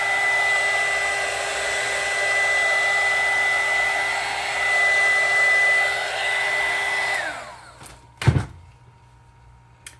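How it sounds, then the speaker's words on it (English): A heat gun blows with a steady whirring hiss for several seconds, then shuts off, followed by a sharp knock and quiet. "I'm sorry about the noise of the heat gun"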